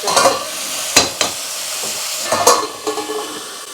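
Tomatoes sizzle and fry in a pan for chicken curry, a steady loud hiss broken by several sharp scraping stirs and clatters, close up with no talking.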